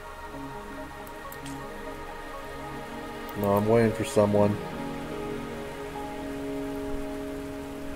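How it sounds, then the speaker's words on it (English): Steady rain falls throughout a rainy scene in the video game Wuthering Waves, a soft continuous patter under a droning musical score, with people talking briefly in the middle. "Are you trapped here by the rain?"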